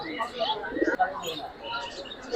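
Racer pigeons cooing among other chirping birds at the busy Meradiya bird market, a soft continuous chorus under nearby chatter and market voices.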